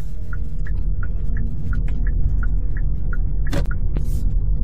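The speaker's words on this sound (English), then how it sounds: "Turn signal's a nice sound." Turn signal of a 2017 Hyundai Ioniq Electric ticking in a steady, even rhythm of about a dozen soft clicks over the low cabin hum and road rumble while driving, with one brief sharper noise near the end.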